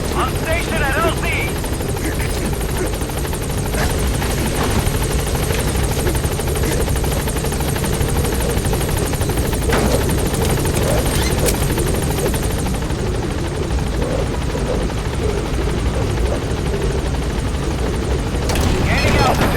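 A helicopter climbs in Metal Gear Solid V, its rotor thrum and engine drone loud and constant throughout, with occasional sharp game effects and a voice speaking over it.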